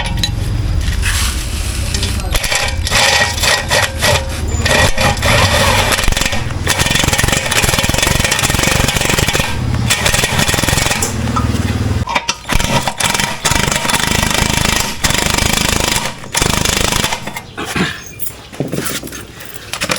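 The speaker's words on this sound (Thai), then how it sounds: "บล็อกไฟฟ้ายิงเข้าไป" Electric impact wrench driving wheel bolts on the front wheel of a walking tractor, loud close bursts of hammering rattle repeating with short gaps, alongside clanks of metal parts.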